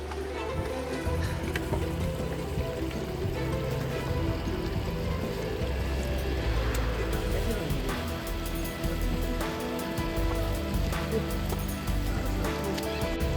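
Steady rain pattering down along the Kedarnath Yatra trek in the Himalayas of Uttarakhand, a continuous dense hiss throughout with background voices and movement mixed in.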